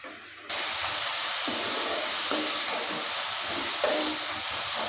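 Water splashed into frying spice paste while cooking a kachki fish charchari with potato and eggplant: a sudden loud sizzling hiss bursts in and continues steadily, with faint stirring scrapes underneath.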